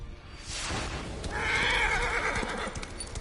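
A horse whinnies loudly in a long, shrill, wavering call, with hoof clatter and game sounds around it, in the game Darksiders 3.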